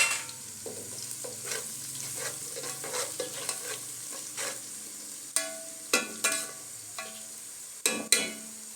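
Garlic, ginger and coriander fry for beef aloo keema, soft sizzling under repeated scraping stirs and sharp clanks of a spoon against the pan, close up and quiet.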